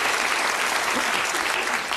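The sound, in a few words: audience applause for contestants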